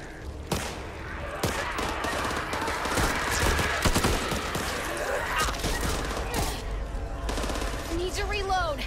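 Rapid bursts of gunfire ring out in the zombie shooter video game Back 4 Blood, with repeated automatic volleys and sharp shots layered over each other, loud and dense throughout, with game sounds mixed in.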